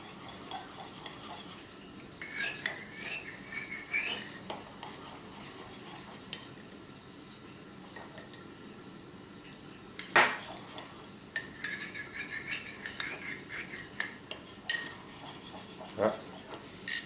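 Vinaigrette salad dressing being stirred in a bowl, with irregular close clinks and scrapes of a utensil against the dish, some louder knocks, over a quiet background.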